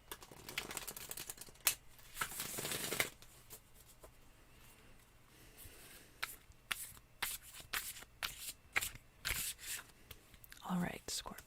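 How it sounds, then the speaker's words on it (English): Tarot cards being shuffled at close range during an ASMR reading, with repeated crisp riffles and soft flicks in bursts across the clip, some loud and some quieter, with no talking. "So now these cards are shuffled."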